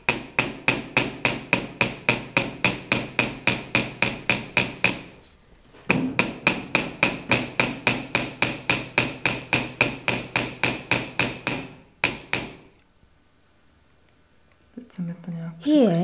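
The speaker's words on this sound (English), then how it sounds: "Now I beat the shape." A metal ring is beaten into shape with a hammer, struck in quick even series of sharp ringing blows, close and loud, with a short pause mid-way and brief quiet talk at the end.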